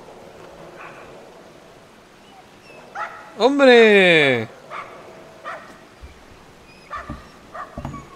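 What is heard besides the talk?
dog barking and whimpering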